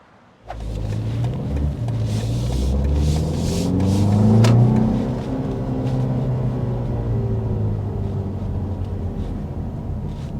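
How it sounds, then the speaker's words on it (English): A 2024 BMW X2 M35i accelerates hard, its engine surging from a low rumble into a rising, revving pull that peaks midway and then settles into a steady, loud drone, heard up close with no talking. "Here's a little taste of acceleration."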